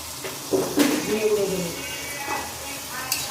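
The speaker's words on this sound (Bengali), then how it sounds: "লাউটা বেশ কিছুক্ষণ কষিয়ে নেব" Bottle gourd pieces sauté with turmeric and green chilli in a pan, making a soft sizzle with scraping stirs and clinks, while someone talks over the cooking.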